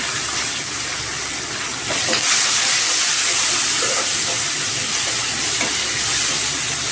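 Curry leaves and green chillies sizzle in hot oil as a tempering for mango rice, making a loud, steady hiss and crackle that swells slightly partway through and continues without a break, with no talk.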